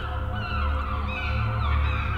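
Birds circle over a beach in The Last Door video game, giving a continuous wash of overlapping honking calls above a low, steady drone, loud and without speech.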